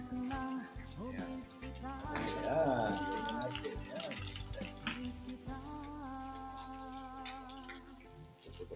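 Fish that was first salted and sun-dried, now frying in hot oil, sizzling steadily with sharp pops and crackles, close by and fairly loud beneath someone speaking and background music.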